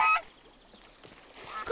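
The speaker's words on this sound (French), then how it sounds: "Bing, c'est pas un canard, c'est une oie." A cartoon goose gives one short, loud honk at the start, followed by quiet with faint rustling and a softer rising honk near the end.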